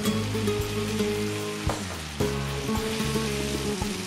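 Piri piri pepper and canned tomatoes fry in a pan with a steady, close sizzle, and a few clinks and stirs stand out over it.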